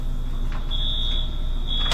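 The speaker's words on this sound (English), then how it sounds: "There's a fire alarm going off." Indoors, a fire alarm lets out loud, piercing electronic beeps in a broken pattern, sounding close by and alone.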